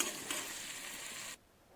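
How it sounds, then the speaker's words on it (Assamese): Soaked joha rice being fried and stirred in a pan, giving a steady close sizzle with a scraping stir that cuts off abruptly near the end, no voices. "গোটেইখিনি ভালকৈ ভাজি ল'ব।"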